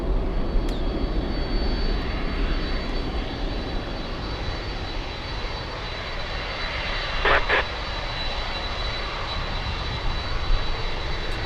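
A LATAM jet airliner lines up on the runway at Miami International Airport, its engines producing a steady, loud, broadband roar that holds evenly throughout, with a couple of faint clicks.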